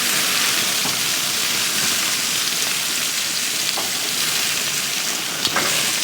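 Thin pork chops sizzle steadily in a hot pan, a loud continuous frying hiss with a few faint clicks and scrapes as the meat is turned.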